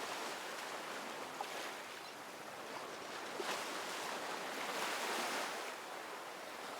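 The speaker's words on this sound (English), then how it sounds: "As you can tell, very windy day." Steady, roaring wind noise buffets the microphone on a beach, with a broad rushing wash like surf underneath, loud and continuous throughout.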